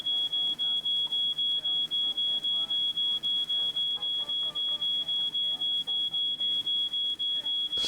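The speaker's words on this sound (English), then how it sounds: "can we just switch off that alarm?" A smoke alarm in the video game She Could Fly, set off by burnt toast, sounds a steady high beep that pulses rapidly and evenly throughout, loud and persistent, with faint background game sounds beneath it.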